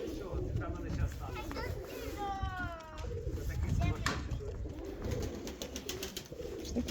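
Serpasti pigeons cooing softly nearby in a short series of low, rolling coos, mixed with outdoor background noise while people talk over them.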